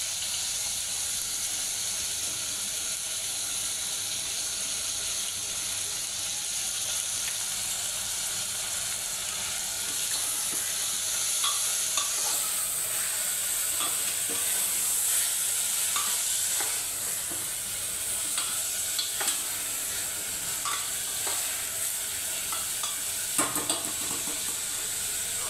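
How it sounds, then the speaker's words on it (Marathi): Beans and peas sautéing in a pan for a quick spiced rice dish, with a steady close sizzle and intermittent stirring scrapes throughout, no voices. "बीन्स आणि वाटाणा हे पण परतवून घ्यायचं"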